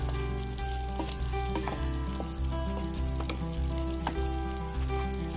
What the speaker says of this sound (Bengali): একটু নাড়া দিয়ে নিচ্ছি যেন মশলাটা সব আলুর সাথে